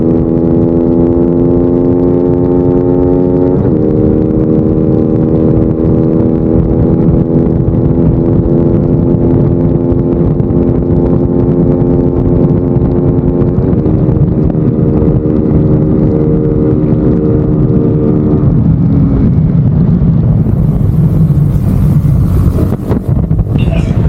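Two motorcycles, a Rusi Flash 150X and a Suzuki Raider FI with a 43-tooth rear sprocket, race side by side, their loud engines droning steadily and shifting pitch through the gears before easing off near the end.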